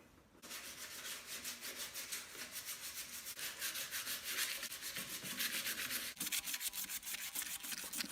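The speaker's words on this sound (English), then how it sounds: "But you just sand lightly on the spots where these sit." Hand sanding on the bracket mounting spots of an LG front-loading washing machine gives a steady, close, rasping scrub that continues unbroken, quickening into rhythmic back-and-forth strokes near the end.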